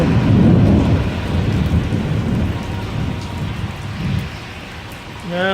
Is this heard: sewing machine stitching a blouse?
no